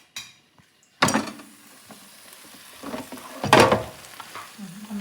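An air fryer holding fried chicken is opened, with a sharp plastic-and-metal clatter as the basket comes out, a quiet scrape, then a second louder rattle of handling near the end, close and without speech.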